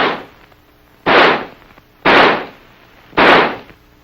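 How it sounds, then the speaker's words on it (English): An XM16E1 5.56mm rifle fires semi-automatically, four sharp, loud single shots evenly spaced about a second apart, each followed by a brief decaying tail, with no voice over them. "By closing the bolt and turning the selector lever to semi, the rifle will fire semi-automatically."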